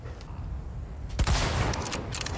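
Rapid bursts of video-game gunfire from Resident Evil 4 Remake, a cluster of loud close shots cracking out over a quiet background.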